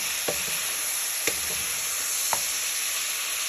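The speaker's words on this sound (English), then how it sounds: "Stir it all the way round" Pieces of Spanish chicken are stirred around a sizzling pan. A constant bright frying hiss carries three distinct spoon scrapes spaced about a second apart.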